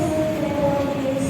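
Indonesian Motis passenger train running on the rails, heard from inside a carriage: a loud steady rumble with a sustained tonal hum from wheels and motors, continuous and close.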